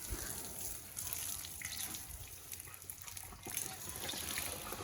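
Water splashes and gushes steadily and loudly nearby for several seconds, a continuous wash of spray with no break.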